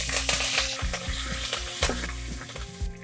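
Curry leaves crackle and sizzle in hot oil in a pan already holding fried garlic for Chettinad kara kuzhambu, a loud, busy spitting sizzle with sharp pops throughout, no talking.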